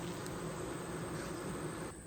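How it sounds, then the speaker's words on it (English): Honey bees fanning at the hive entrance on a hot summer afternoon make a continuous close buzzing drone, steady and even throughout, with no voices. "you can hear the bees fanning"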